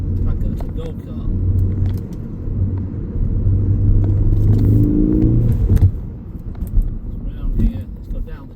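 A 2017 Ford Focus ST-3 with a 2.0 EcoBoost engine and 78k miles, driving on a dual carriageway. The low engine drone rises as it revs, with road rumble, a few interior clatters and intermittent talk inside the cabin.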